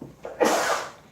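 A single sharp sneeze bursts out after a faint intake of breath, close and fairly loud, then trails off.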